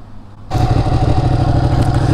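A 2018 Ducati Panigale motorcycle engine starts up and runs after a short quiet gap, holding a steady, loud, throbbing idle close by with no talking.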